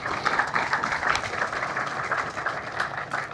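Steady, sustained applause from a crowd at an outdoor groundbreaking ceremony for a city apartment project, honoring attending officials; dense clapping throughout at moderate distance.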